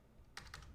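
Two crisp key presses on a computer keyboard click close by, evenly spaced, against a faint background with no speech.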